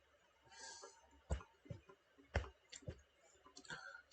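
Faint computer mouse clicks, a few sharp isolated taps spaced irregularly against a quiet room background.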